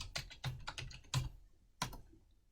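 Several quick keystrokes tap on a computer keyboard in short clusters, close and quiet, with brief pauses between them.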